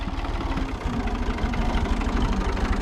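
A tractor engine runs steadily during aronia planting in a village field in Denizli, a loud, close, throbbing mid-to-low chug at a constant idle-like pace with no talking over it.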